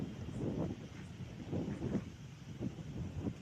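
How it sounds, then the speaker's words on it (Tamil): Strong wind blows outdoors at night, buffeting the microphone in low, rumbling gusts that swell and ease every second or so, fairly faint and with no voices. "காற்று ரொம்ப அடிக்குது கேஸ் இந்த இடத்துக்கு வந்தால்"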